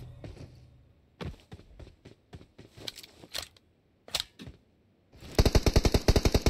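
Gunfire in the mobile battle-royale shooter PUBG Mobile: scattered single shots and short bursts, then a dense rapid automatic volley near the end, loud and close with no talk over it.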